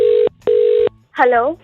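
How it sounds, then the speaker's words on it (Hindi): Two steady telephone beeps, each about a third of a second, sound alone as a prank call is hung up, followed by a brief burst of talking. "ये नंदन ने तो फोन काट दिया।"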